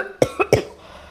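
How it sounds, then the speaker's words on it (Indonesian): Three quick coughs in close succession, near and fairly loud, followed by quiet room tone. "nggak berhenti batuk dan bersin"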